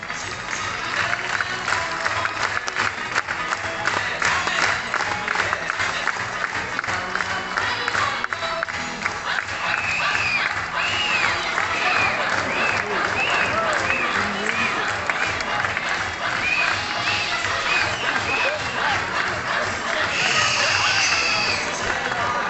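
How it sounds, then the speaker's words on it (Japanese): Dolphins at the Okichan Theater show give a chorus of calls as a birthday gift to a dolphin named Gon-chan, heard within steady rhythmic clapping from a large crowd, with whistly high cries rising through the clapping. "イルカたちからの鳴き声のプレゼントでした。"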